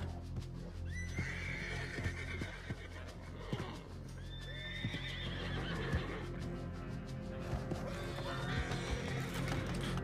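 A horse in Red Dead Redemption 2 whinnies and neighs several times over steady clip-clopping hooves, with gunfire-like clicks and game ambience underneath; no one speaks.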